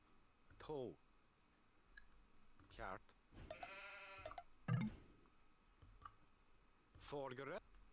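Sheep in Age of Empires II bleat in short, separate calls spread across the clip, with game clicks and a brief tone mixed in, all fairly faint.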